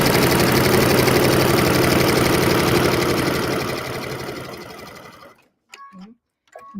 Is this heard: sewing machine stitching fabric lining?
yes